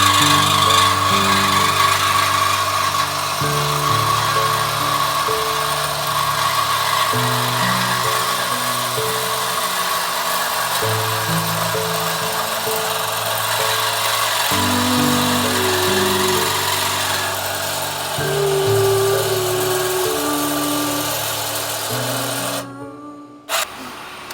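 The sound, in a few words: reciprocating saw cutting exhaust pipe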